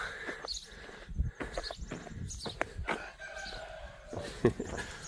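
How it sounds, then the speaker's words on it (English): A rooster crows nearby amid other farmyard noises, with a few short calls and rustling throughout. "Always be a cockerel."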